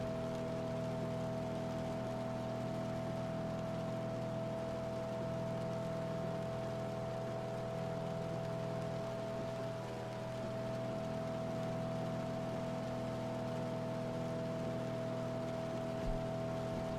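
Steady rain on a storm-chasing vehicle blends with the constant hum of its running car engine, a continuous, fairly loud wash with a low droning tone throughout and no talking.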